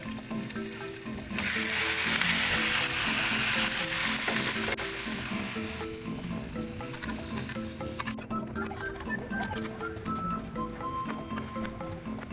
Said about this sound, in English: follow the pork belly, stir occasionally until lightly brown